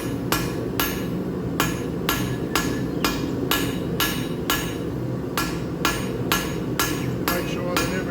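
Recycled metal stock hammered with full-face blows to square and taper it for a bird bath: sharp, ringing strikes about once a second, close and fairly even, over a steady background hum with no talk.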